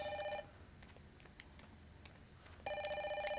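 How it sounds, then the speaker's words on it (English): A telephone rings in the horror video game Fatal Frame: Maiden of Black Water, with a bright electronic ring in two loud bursts at the start and end and a quiet gap between them. "oh, snap, phone's ringing"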